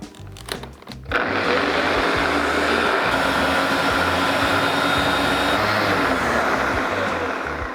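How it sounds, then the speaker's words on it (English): Blender whirring through avocado chocolate mousse, starting with a few short pulses before settling into a loud, steady, continuous motor roar that holds to the end. "We're gonna get all the pieces of avocado down into it so it blends up"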